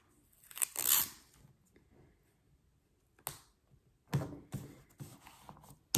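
Washi tape torn by hand at a desk, quiet short ripping and crinkling bursts separated by pauses, close and soft.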